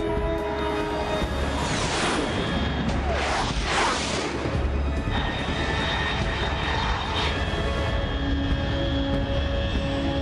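A fast jet aircraft in the Metal Gear Solid 3 video game roars overhead at high altitude, a loud continuous engine rumble with sweeping whooshes swelling and fading, steady throughout with no talk.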